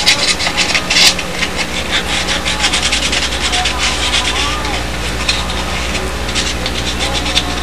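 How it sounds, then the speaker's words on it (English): Sandpaper roughening small plywood pieces, a steady scratchy rasping rub close by, continuous with slight surges. "roughen them up with sandpaper"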